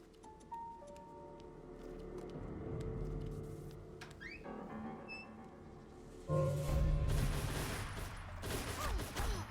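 Gunfire in the video game Velvet Assassin, a burst of rapid shots rising to a loud, dense volley in the second half over game music and mechanical clatter.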